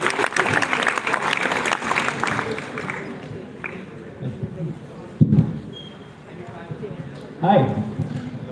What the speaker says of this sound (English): Please give a big round of applause to welcome Arif.